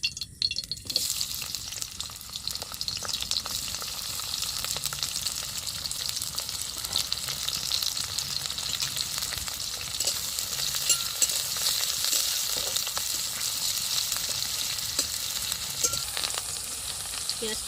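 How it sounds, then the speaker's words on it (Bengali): Onions and green chillies fry in oil in a wok for a Bengali taro-leaf dish. A steady, close hiss of sizzling goes on throughout with a few faint clinks. No one speaks. "পেঁয়াজটা ভাজা ভাজা হয়ে গেছে।"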